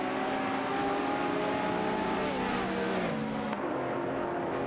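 Racing video game engine noise from a Dodge Viper GT2 and a Ferrari F430 GTC running side by side, a steady loud high-revving drone with shifting tones that briefly drops in pitch near the end.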